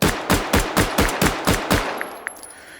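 Makarov pistol fitted with a drum magazine fires in Call of Duty: Black Ops, seven loud rapid shots in an even rhythm, followed by faint clinks and quiet.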